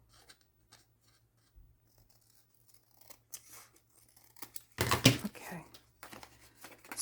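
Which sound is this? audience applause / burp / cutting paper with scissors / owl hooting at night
cutting paper with scissors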